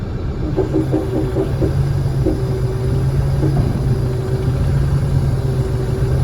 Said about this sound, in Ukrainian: мало масла в тракторі, щось жужжить, треба масло підлити